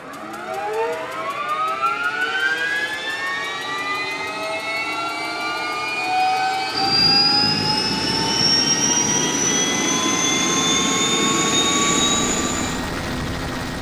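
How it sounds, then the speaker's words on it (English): A helicopter turbine engine spools up steadily, its whine climbing in pitch over several seconds as a deeper roar builds underneath, continuous and close. "Michael begins to start up the helicopter and to calibrate all the instruments according to a checklist."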